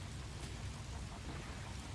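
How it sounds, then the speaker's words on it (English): Acid rain falling on an alien planet in No Man's Sky, a faint steady hiss of downpour with a low rumbling undertone, continuous and even. "acid rain is not really what you're after"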